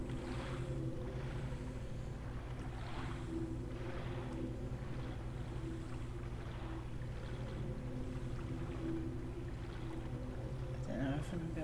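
Oars rowing a boat across water in the video game Silent Hill 2: soft rhythmic splashing strokes repeating about every second, steady and moderately quiet under a low droning ambient hum.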